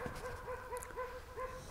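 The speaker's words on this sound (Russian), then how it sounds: "Собаки лают и так далее." Distant dogs give a string of faint, evenly repeated yelps on a full-moon night in the outskirts of Karaganda, heard far off over a quiet background.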